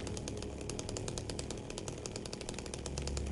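A chainsaw in Silent Hill 2 roars continuously at full revving buzz, dense and steady throughout, with a rapid pulsing chatter and no talking.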